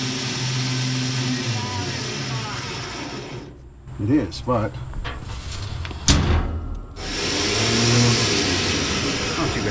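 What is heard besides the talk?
newly installed trailer winch motor running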